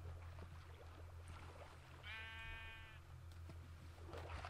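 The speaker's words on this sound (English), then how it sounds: "There's another sheep." A Minecraft sheep lets out a single drawn-out bleat in the middle, heard over a steady low background drone.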